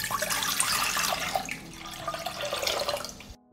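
Tap water runs steadily into a cooking pot, about 1.5 liters filling for several seconds with a broad rushing splash, easing slightly midway, then cutting off abruptly near the end.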